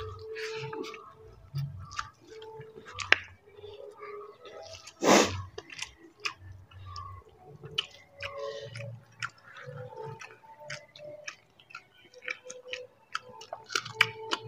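Someone eats cooked taro leaf greens, with close, wet chewing and clicky mouth sounds repeating irregularly through a quiet room, and one sharp louder bite or clack midway.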